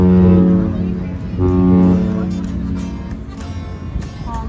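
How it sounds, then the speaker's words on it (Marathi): A Princess cruise ship's deep, sustained horn blasts twice across Sydney Harbour, heard at a distance beneath nearby voices and a busy waterfront crowd. "हॉर्न पण दिला तिने."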